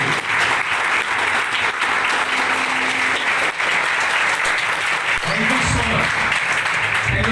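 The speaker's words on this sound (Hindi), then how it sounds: "ये जोरदार तालियां" A hall audience breaks into loud, sustained applause that fills the room for the whole stretch, with a voice speaking briefly near the end.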